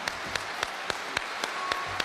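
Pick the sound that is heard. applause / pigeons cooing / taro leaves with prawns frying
applause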